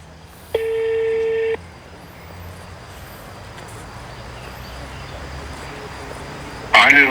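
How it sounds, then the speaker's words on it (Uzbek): A phone call placed to a businessman in Kokand rings out as one steady, buzzing ringback tone about a second long. Faint hiss follows, and a short burst of noise comes at the end. "Telefon qilyapman."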